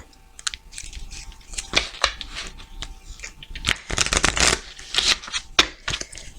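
Tarot cards shuffled and cut by hand at close range, with a run of crisp riffling, flapping bursts and soft slaps that come in quick uneven clusters.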